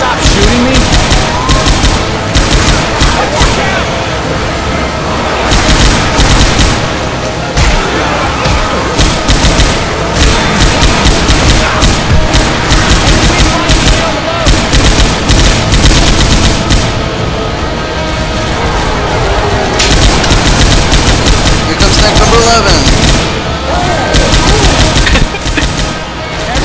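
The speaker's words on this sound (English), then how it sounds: "Can you stop shooting me?" Heavy, relentless gunfire from the video game Left 4 Dead 2 in survival mode, loud dense rattling bursts and thuds filling the whole stretch without letup, with voices mixed in.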